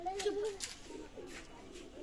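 A golden Pakistani high-flying pigeon gives a soft, low coo at close range, followed by quieter murmuring calls, with faint voices in the background.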